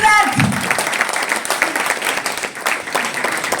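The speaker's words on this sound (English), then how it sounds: "please give them a big round of applause" An audience gives loud, sustained applause for dignitaries on stage at the launch of a women's handball league in India, dense clapping filling the hall with some voices mixed in.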